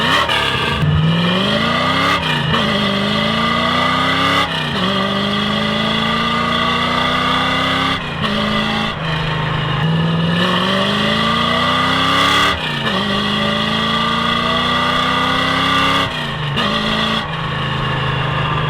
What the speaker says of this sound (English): find the best exhaust system for your 1965 to 1966 Mustang